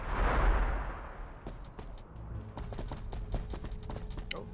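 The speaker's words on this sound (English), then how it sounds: "They're gonna chuck a stick bomb?" An Ork stick bomb going off in Warhammer 40,000: Battlesector, a single heavy blast that booms and rolls away, followed by scattered crackling gunfire and small pops in the distance.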